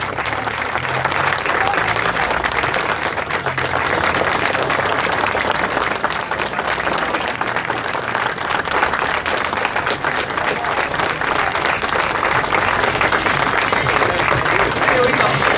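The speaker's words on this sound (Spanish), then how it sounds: "fuerte el aplauso" Enthusiastic standing applause from a crowd at a museum's 15th anniversary celebration, loud, steady and continuous clapping by many people with voices mixed in throughout.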